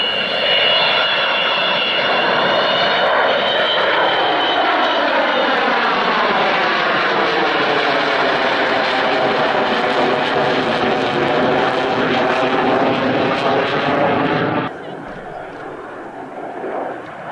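An Avro Vulcan jet bomber roaring past at the Farnborough airshow, a loud sustained engine howl with a sweeping pitch that holds for about fifteen seconds before cutting away to quieter background.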